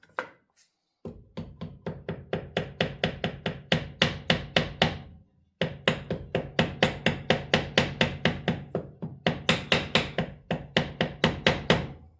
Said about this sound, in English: We're just going to give it a love tappy tap tap here.